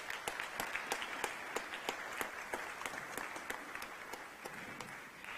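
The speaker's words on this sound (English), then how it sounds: "Can we give them a round of applause?" An audience applauds at a First Ladies Dialogue session of the United Nations Habitat Assembly. Steady, sustained clapping from a large crowd continues for several seconds.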